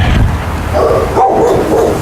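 A dog barks from behind a fence or gate during an outdoor training session at a dog ranch. The barks are loud but muffled and rough, set in steady background noise.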